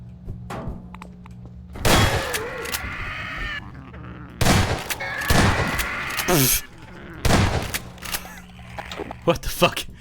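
Gunfire from a Half-Life mod comes in a few separate heavy bursts, loud sharp shots with ringing tails between quieter stretches of game ambience, and a voice talks at times.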